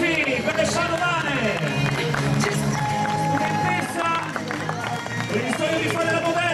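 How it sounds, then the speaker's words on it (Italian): A crowd at a beauty pageant in Padova claps and cheers for the contestants over lively background music, with applause swelling in bursts and crowd chatter running throughout. "gli applausi per le padovane!"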